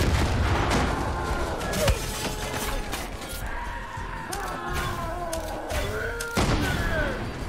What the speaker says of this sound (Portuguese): Ah, eu tô tomando tiro, cara.